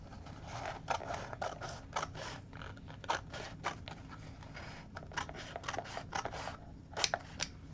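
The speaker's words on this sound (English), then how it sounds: "I'm just going to cut" Scissors snipping through covering material for an altered book project, a quiet series of irregular short cuts and rustles close by with no talking.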